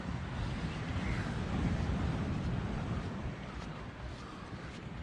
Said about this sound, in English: This is sound of water hitting the